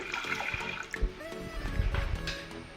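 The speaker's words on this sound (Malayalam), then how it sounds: "കുറച്ച് വെള്ളം ഒഴിച്ചു" Water splashes and gurgles as it is poured over washed lentils, nearby, with a few clinks and a brief thump; no speech.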